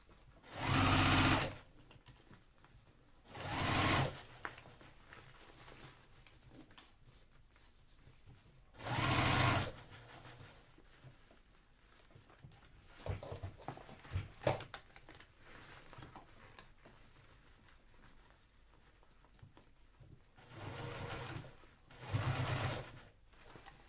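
A sewing machine runs in several short bursts while back stitching a seam on a small Tribiani bag, each run a close, rapid whirring buzz separated by quiet pauses and small handling clicks.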